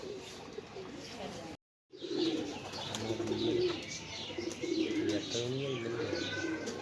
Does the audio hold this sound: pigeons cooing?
yes